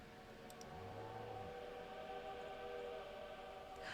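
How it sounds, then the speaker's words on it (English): A distant train in Stardew Valley sounds a low horn tone with steady rumbling beneath, faint and sustained for a few seconds. "Oh, it's a train. I was like, what is that sound?"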